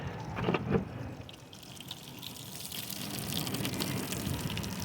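Running water rinses parts of an old laptop during cleaning, a steady continuous splashing wash with a couple of brief louder bursts near the start, heard close and alone.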